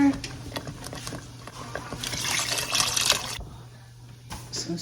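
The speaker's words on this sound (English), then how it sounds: "A little more water." Water poured into gravy cooking in a pan with bouillon, onion and seasoning, a brief hissing, splashing pour rising in the middle and cutting off, over a steady kitchen hum.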